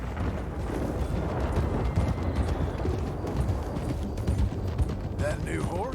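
Horse hooves clip-clopping during a ride in the video game Red Dead Redemption 2, a steady dense patter continuing under a busy mix of game sound and ambience throughout.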